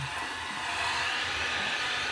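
A hair dryer blows steadily and close on fresh paint on a fishing crankbait, a constant airy whoosh with no other sounds.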